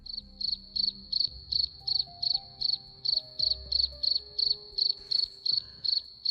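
A cricket sound effect plays a steady run of evenly spaced chirps, about three per second, clear and alone over faint low background tones.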